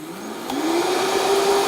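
A home blender runs with dry powder inside, its motor starting up and rising into a steady whir that holds loud and close for the rest of the moment, with no talking.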